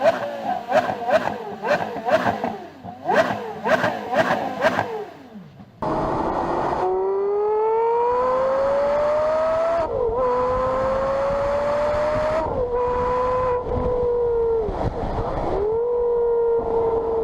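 A high-revving 5.7-litre V10 supercar screams through several sharp throttle blips, then holds long rising shrieks through the gears, loud and close with crackling exhaust.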